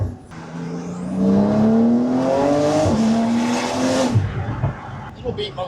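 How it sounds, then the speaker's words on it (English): A turbocharged Porsche GT2RS accelerates hard nearby, its loud engine note climbing in pitch and dropping sharply at two upshifts before fading. "Hear those turbos?"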